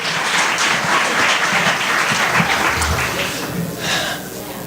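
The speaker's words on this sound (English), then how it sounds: "So why don't you give everybody a round of applause." A live audience at a Somali community night applauds steadily, a dense wash of clapping that holds and then thins slightly toward the end.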